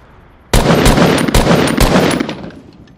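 Automatic gunfire in a video game bursts in suddenly, loud and close, as a rapid stream of shots with a few sharper cracks, running for about two seconds before trailing off.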